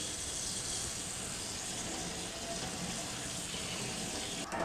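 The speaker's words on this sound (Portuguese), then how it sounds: "Agora vamos escorrer a água." Hot pasta cooking water pours steadily from a pot into a kitchen sink, a continuous close rushing splash that barely varies until it cuts off at the end.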